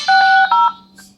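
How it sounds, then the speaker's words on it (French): A Blackview A80 Pro smartphone plays a short electronic tone sequence: a few clear beeping notes in quick succession, loud and close, ending with a faint final blip. "vous voyez la belle sonnerie"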